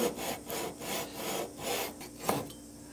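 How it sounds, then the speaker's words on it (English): A small hand saw cuts through wood on an electric guitar neck build, giving a steady back-and-forth rasp of repeated strokes, fairly close and moderately loud, with no talking. "it should just take a few cuts here with this little saw"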